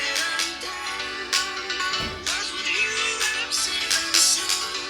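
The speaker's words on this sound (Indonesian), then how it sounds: "Tuh ya, speaker bawahnya hidup banget nih." Music plays from the speaker of a Samsung Galaxy A73 5G phone, a steady, fairly loud mix with beats and bright high tones running through the whole stretch and no talking over it.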